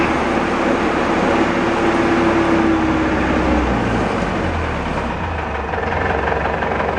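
An IMT tractor's warm engine is held at top revs: a steady, loud diesel roar with a brief whine partway through, continuous and without speech.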